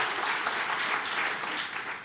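Sunday worship congregation in a GBI church in Batam gives applause for God, a brief, even burst of many hands clapping at moderate distance.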